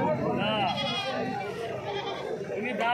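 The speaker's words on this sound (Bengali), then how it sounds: "তো বন্ধুরা দেখতে পাচ্ছ এই সাইডেও প্রচুর ছাগল রয়েছে।" Goats at a crowded livestock market at Uluberia bleat loudly and repeatedly, the wavering cries overlapping one another close by amid a busy crowd, with voices talking throughout.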